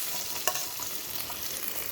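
Fish pieces fry in hot oil in a pan for a fish and eggplant curry, a steady dense sizzle with a brief stirring clack near the start, close and continuous.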